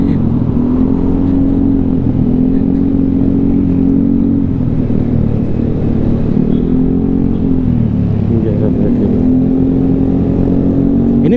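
A motorcycle engine runs steadily on the road, a loud close drone that holds even with small rises and dips in pitch, mixed with other passing traffic and no talking.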